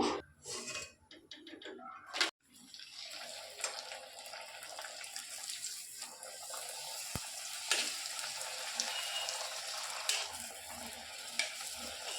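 Fuchka puris frying in hot oil give a steady close sizzle and crackle, with a few clatters and handling knocks early on and a short pause near the start.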